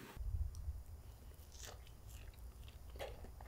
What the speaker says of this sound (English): let me have one more strawberry